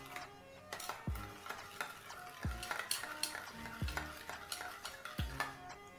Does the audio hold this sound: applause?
no